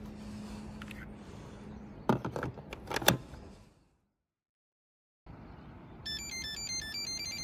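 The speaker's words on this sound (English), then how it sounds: "And that is the sound of Ardupilot starting." An Ardupilot flight controller powers up on a heavy-duty GPS-navigating crawler robot. A short run of electronic stepped beeps plays near the end, after some mechanical clunks and a brief silent pause.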